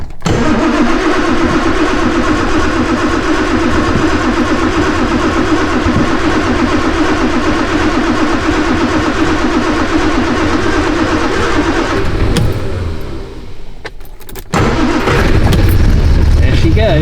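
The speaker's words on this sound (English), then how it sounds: "Everybody loves a start-up video." A Triumph Vitesse in rough, neglected condition cranks and runs with a steady, loud, close mid-pitched engine roar that holds for about twelve seconds, then dips briefly before picking back up.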